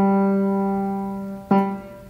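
Orchestral strings hold a steady sustained chord from a musical number, with a fresh bowed attack partway through that swells the sound before it settles again; no voice is present.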